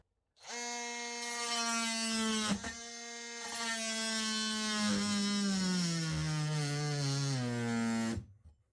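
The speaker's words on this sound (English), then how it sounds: "This I'm doing now is a little bit of oak with the coarse teeth on, the coarse teeth blade." A DeWalt DCS355 oscillating multi-tool with a coarse-toothed blade cuts through a small piece of oak, giving a loud, steady buzzing whine that sags slightly in pitch as it bites, then stops abruptly.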